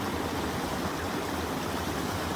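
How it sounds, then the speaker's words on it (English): A small, clear creek flows right behind a secluded campsite ringed with brush, giving a steady, close, broadband rush of running water with no voices. "Right behind the campsite is this little creek."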